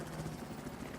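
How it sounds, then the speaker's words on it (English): Helicopter in an 8-versus-8 online video game battle on the Shanghai map, a steady low thudding rotor drone with no pauses, moderately loud and continuous across the short moment, no speech over it. "We do have BerZerK's helicopter also here as well"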